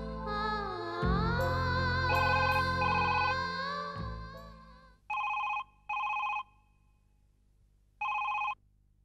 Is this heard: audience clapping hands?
no